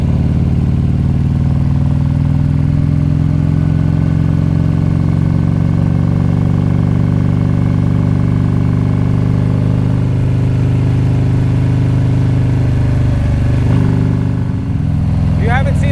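A group of motorcycles cruising a mountain road toward Bear Mountain, New York, with oncoming traffic, a loud steady engine drone running throughout with a slight shift near the end.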